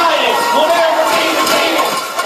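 A crowd of thousands of nurses protesting over pay at Parliament House in Australia, heard as a loud continuous roar of many voices and cheering throughout.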